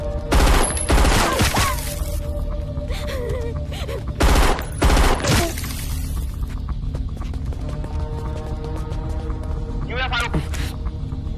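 Bursts of gunfire in a film siege scene at a temple, loud volleys and shots ringing out among shouting voices and a busy action soundtrack, with hoofbeat-like clatter in between.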